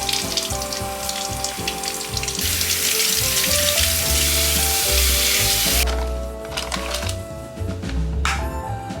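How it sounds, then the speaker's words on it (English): Vegetables sauteing in a hot pan give a loud, steady sizzle that swells and dips as they are stirred, close up and with no voice. "So I'm gonna saute all my veggies"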